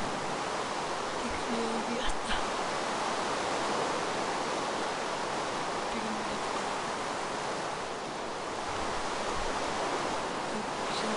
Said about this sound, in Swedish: Så ska det regna.